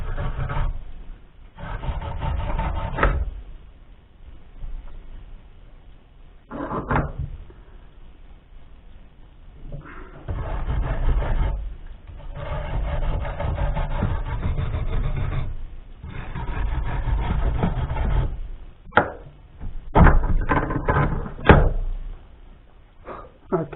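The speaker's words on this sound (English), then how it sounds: "I want to wire brush the threads" Wire brush scrubbing the threads of a Husky air compressor part clamped in a vise, rough rasping strokes in bursts of a few seconds with pauses, close and fairly loud, no talk.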